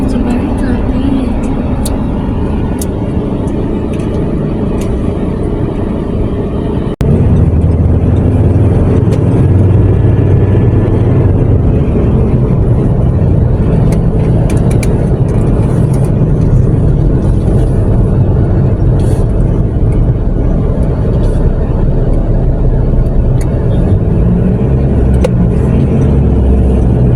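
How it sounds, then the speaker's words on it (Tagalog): Steady road traffic rumbles on the drive to a beach in Elyu, La Union, with a continuous engine drone that grows louder and fuller after about seven seconds, and voices chatting over it. "So very traffic."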